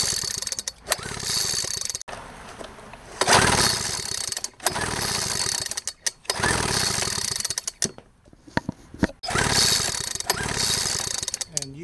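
Craftsman leaf blower engine turned over by its pull-start during a spark test, repeated bursts of rattling cranking separated by brief gaps, close and fairly loud.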